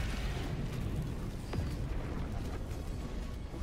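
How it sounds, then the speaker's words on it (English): An airstrike in a video game, with a Bile Titan nearby, detonates as a dense, continuous rumbling roar of overlapping booms that stays loud throughout, with no voices over it. "At least the airstrike took out most of your issues."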